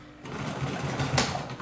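A sewing machine stitches a quilt block seam for a Broken Dish block, a steady close mechanical whir running throughout the short stretch with no talking.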